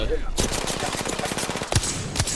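Rapid automatic gunfire bursts in Apex Legends, loud bursts of rattling shots with a couple of sharper impacts near the end and a voice in the background.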